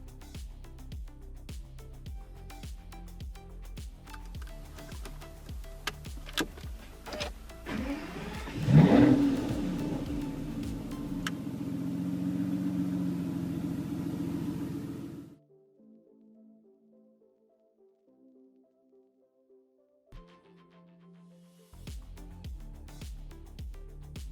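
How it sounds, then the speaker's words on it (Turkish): An Aston Martin Rapide S four-door sports car starts with a loud rising engine roar that settles into a steady idle, then the sound cuts out, with clicks and cabin noises around it. "Kontak anahtarını da buraya takarak aracı çalıştırıyoruz"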